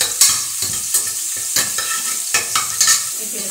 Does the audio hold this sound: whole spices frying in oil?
yes